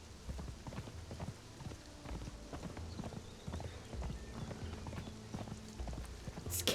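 Horse hooves clip-clopping in Conan Exiles, a steady close rhythm of trotting hoofbeats over ground, running evenly throughout with no voices.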